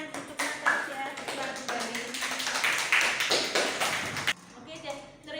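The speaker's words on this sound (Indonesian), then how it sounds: "beri tepuk tangan untuk Natasha." Hands clapping in a classroom after a student finishes a discussion presentation, a dense patter of claps that fades out near the end, with a teacher talking over it.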